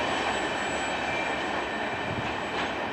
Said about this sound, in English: That's the only train we're gonna see tonight